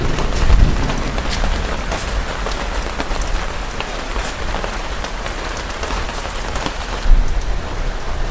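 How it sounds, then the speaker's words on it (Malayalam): Steady rain patters heavily on a surface, a dense continuous hiss with occasional louder drips, no voices. "അപ്പളേക്ക് ഈ മഴ"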